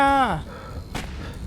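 A gun turret opens fire in the sci-fi shooter Aliens: Colonial Marines, a single sharp burst following a falling electronic tone, all set over low background game rumble.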